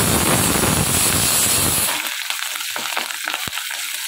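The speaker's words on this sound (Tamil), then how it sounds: "இப்போ இதில் வந்து காஞ்ச மிளகாய், கொத்தமல்லி, கருவேப்பிலை" Dried chilies, coriander and curry leaves hit hot oil in a loud, dense sizzle that cuts off sharply about halfway, leaving faint crackles and a brief pop.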